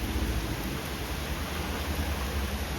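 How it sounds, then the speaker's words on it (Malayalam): Heavy monsoon rain pours down in Kerala, a dense, unbroken roar of rainfall close by with no voices. "നല്ല പൂര മഴയാണ്."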